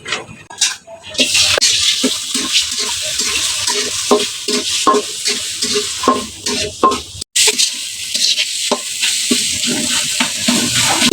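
Chopped onion and dried red chili fry in a little hot oil as a tempering for leafy greens, a steady close sizzle broken by repeated scraping stir strokes and a brief cut near the middle.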